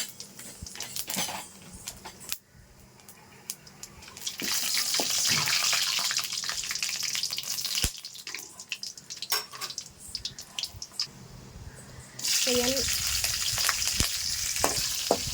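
Cinnamon, cloves and other whole spices go into hot oil, which sizzles and crackles, with stirring and scraping noises, a quieter stretch in the middle and then a burst of louder frying near the end, no talk.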